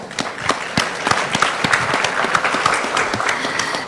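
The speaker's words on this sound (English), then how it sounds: "Please give them an applause." An audience applauds panelists at the close of a discussion on manufacturing excellence, a steady dense clapping that carries at even strength through the whole stretch.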